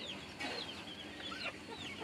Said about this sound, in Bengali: এই যে মাশাআল্লাহ এই এক বিড়ার মুরগি